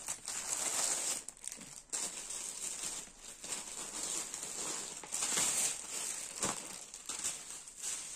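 A cross stitch kit parcel being unpacked up close, with steady crinkling and rustling of wrapping that swells and dips in short bursts with no talking.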